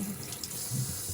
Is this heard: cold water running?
yes